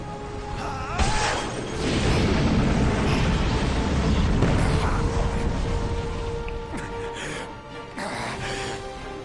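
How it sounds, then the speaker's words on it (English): Fireworks burst in the sky in a video game, Final Fantasy XV, giving loud rumbling booms and crackling bursts through most of the scene with a few sharper pops toward the end. "Fireworks in the sky!"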